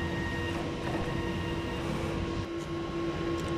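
A sublimation printer running a print head clean, a steady loud mechanical whir and hum with a constant tone, unbroken for the whole stretch.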